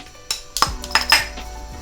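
Shallots are dropped into a wok for fish curry, giving a few metallic clinks and knocks of a utensil against the pan, close and fairly loud, with a short sizzle between them and no speech.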